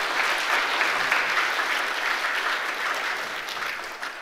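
A church congregation claps together in sustained, dense applause that stays loud and steady for the full stretch before easing slightly at the end, with no talking over it.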